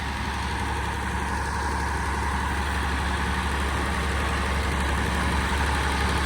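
Big six-cylinder engine on a silage packing machine runs at a constant, loud, low rumbling idle, steady and uninterrupted throughout.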